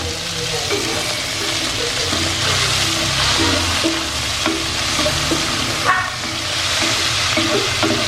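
Meat and sautéed ingredients frying in a pan, a steady close sizzle with repeated stirring scrapes and clatter throughout, no voices.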